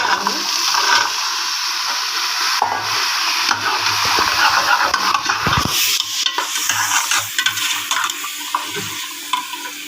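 Water poured into fried tempering in a pan sets off a loud hissing sizzle with bursts and scraping, continuing steadily for several seconds.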